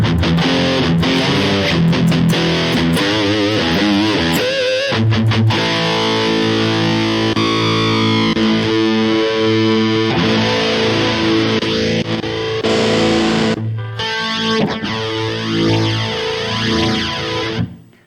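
Electric guitar through a Tube Screamer overdrive pedal and Vox Tonelab SE, gritty with a mid boost, thick sustained distorted chords and lead lines, loud and continuous with no talking.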